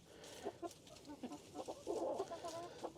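Several chickens cluck and murmur in short, irregular bursts, soft and close, with a faint hiss of background noise.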